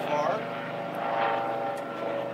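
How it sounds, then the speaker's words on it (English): A propeller airplane drones overhead near an airport, a steady loud engine rumble that fills the clip without pause. "there's one thing about living near the airport is you can just never get away from the helicopters and the planes"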